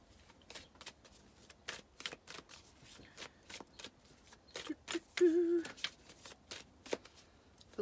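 Universe oracle cards are shuffled in a quick, faint series of soft flicking riffles, with a brief tonal squeak partway through.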